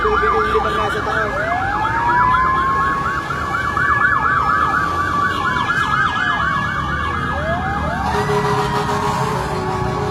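Fire truck sirens wail along a highway at a fire on Luzon Avenue corner Commonwealth in Quezon City, several overlapping rising and falling tones, loud and continuous over steady traffic rumble.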